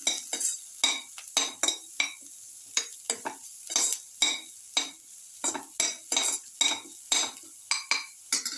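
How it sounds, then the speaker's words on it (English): Metal utensil scraping and clinking in a pan as garlic is stirred and sautéed for a garlic chicken tomato rice casserole, a steady series of short bright scrapes under a soft sizzle, close and moderately loud. "Garlic saute mix."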